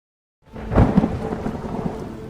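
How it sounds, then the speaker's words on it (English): A thunderstorm with rain: after a moment of silence a loud rumble of thunder rolls in over a steady wash of rainfall, close and dense, fading slightly as it continues. "The storm doesn't ask."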